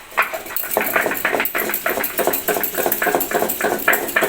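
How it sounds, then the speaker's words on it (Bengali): Cumin seeds are ground finely by hand, producing a steady run of rhythmic scraping and pounding strokes, close and fairly loud, repeating evenly about two or three times a second with no talk. "জিরাটা এখন মিহি করে বেটে নেব।"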